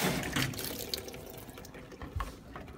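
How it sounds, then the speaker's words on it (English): Steady rushing of water filling a washing machine, with a few clunks and a thump at the end. "pull out to start the water."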